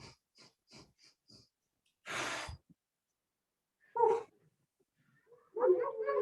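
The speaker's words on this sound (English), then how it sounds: "Take 5 sniffs in." A person takes five quick sniffing breaths in through the nose, short soft puffs, then a long exhale, a brief snort and a louder breathy sound at the end; no talking.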